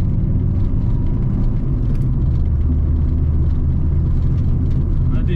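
Five-cylinder turbo engine of a Fiat Coupé 20V Turbo, heard from inside while driving, gives a constant deep rumbling growl, loud and close, with no voices.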